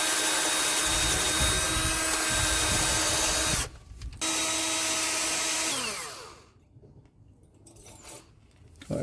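A power tool whines at a steady pitch as it scrubs rust off an exhaust flange on a Chevrolet Traverse. The tone cuts out briefly, starts again, then winds down and falls to near quiet.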